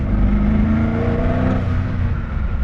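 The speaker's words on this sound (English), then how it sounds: "despite the fact that this is now a heavily turbocharged car, there is very minimal turbo lag" A turbocharged Koenigsegg Agera supercar accelerates hard, its engine roaring loud and steady throughout with a rising, rumbling drone and no pauses.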